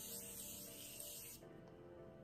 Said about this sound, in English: So I'm gonna set my face using this Morphe setting spray